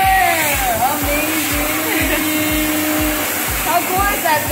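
A Dyson hand dryer in an airport restroom blasts a loud, steady roar of air right up close, with rhythmic thumping underneath and a person exclaiming over it.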